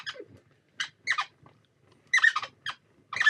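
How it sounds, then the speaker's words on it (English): A paper-crafting table squeaks and rattles as a clear plate is run through a cutting machine on it, making irregular bursts of close, high creaking squeaks separated by short silences. "I've got a squeak as well as a rattle on the table."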